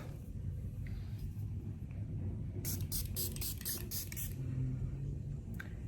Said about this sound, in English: I'm spraying my favorite face mist.